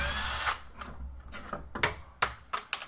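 A power drill backs out the three screws holding the vent plate on an Addams Family pinball machine, giving several short, sharp whirring bursts with small pauses between them, close and fairly quiet.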